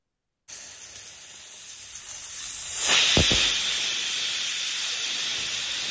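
A sharp, continuous hiss of escaping steam from a pressure cooker whistle rises and holds steady, loud and close, with a brief rattling burst as it peaks.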